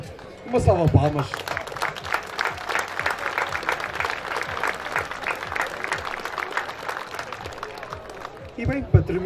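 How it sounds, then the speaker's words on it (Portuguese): A festival audience at a trophy ceremony for a bull-breeding ranch in Calheta, São Jorge, breaks into sustained clapping. The applause is loud and dense, with a voice speaking briefly at the start and again at the end. "Uma salva de palmas."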